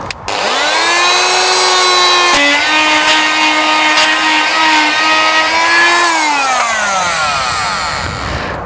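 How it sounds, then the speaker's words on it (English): Handheld multi-tool cutting into a woody passion flower trunk in a garden: a loud, close, high-pitched motor whine that starts up, holds steady while buzzing through the wood, then winds down and stops. "So be prepared for a little bit of noise while I have a go at this"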